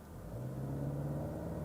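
Inside a 2024 Chery Tiggo 7 Pro with a dual-clutch transmission, the engine rumbles and rises in a smooth whir as the car pulls away from a stop.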